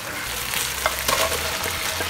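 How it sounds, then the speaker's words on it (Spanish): Onion dropped into hot oil for chicken escabeche, sizzling steadily with a few stirring clicks, close and brief, with no voices. "ahora le echamos la cebolla"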